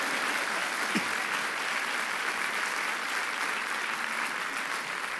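Steady, dense applause from a large church congregation fills the whole stretch, clapping evenly without pause or voices rising above it.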